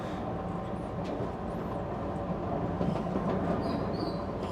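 A train runs on rails on the way from Kansai Airport to Namba, Osaka, giving a steady low rumble with faint wheel clatter and occasional high squeals, heard from inside at moderate volume.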